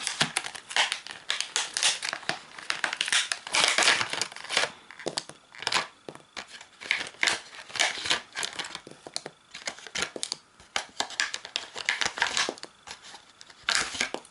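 Close crinkling and crackling of stiff plastic packaging as calligraphy felt-tip pens are pulled free, in irregular bursts with short pauses; no voices.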